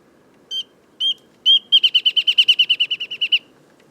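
A recorded wrentit gives three spaced, high pinging notes that then speed up into a quick bouncing series, like a ping pong ball dropping, clear and close against a quiet background.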